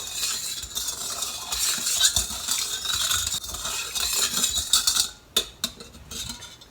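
Seasonings being stirred into light soy sauce with a utensil, a steady close scraping and clinking against a bowl that ends in a few sharp taps, with no talking.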